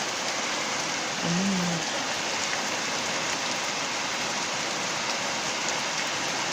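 Rain falls steadily outside an open window, a dense even hiss of drops on surfaces that carries on unbroken, with a brief low hum under it.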